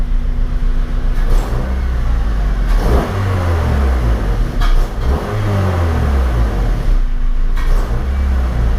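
A warm car engine fitted with a cold air intake revs repeatedly, climbing and dropping in pitch with a throaty intake roar, loud and close, without any talking.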